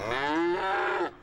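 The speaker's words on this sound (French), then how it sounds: "beaucoup de vaches" A single cow in an Oklahoma field gives one loud, close moo lasting about a second with a rising then falling tone that cuts off abruptly.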